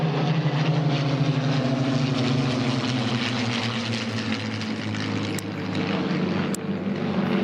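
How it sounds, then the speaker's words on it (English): A flight of P-51 Mustang propeller fighters passing at the 2025 Bremerton Airshow, a loud, sustained droning engine roar with a steady throbbing tone that fills the whole stretch. "here comes our first flight of Mustangs from the right"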